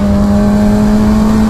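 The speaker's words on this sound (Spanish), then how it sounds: "¿Cómo mola cuando tienes el gas medio pillado con este escape y vuelves a abrirlo?" Suzuki GSX-R 750 motorcycle with an aftermarket exhaust under way on a road ride, a loud, steady engine drone holding a constant pitch close to the microphone.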